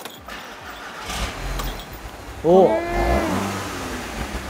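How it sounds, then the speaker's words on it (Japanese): A 2-liter front-wheel-drive car with a near-stock exhaust starts with a brief crank, catches, and revs up sharply once before settling into a low idle, heard close by as a man exclaims. "じゃあエンジンかけますよ。"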